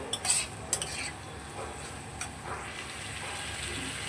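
A spoon scrapes and stirs mustard-poppy seed masala in a pan, with a couple of light metallic clinks early on and then a continuous soft sizzling scrape.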